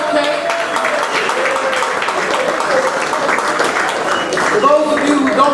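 An audience at a basketball league premiere applauds in a dense, steady wash of clapping for several seconds, with voices talking over it.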